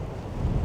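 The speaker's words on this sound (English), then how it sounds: "protect it from all the wind" Wind blowing on a sand dune at Orre Beach, a heavy low rumble buffeting a microphone tucked under a down jacket, brief and steady.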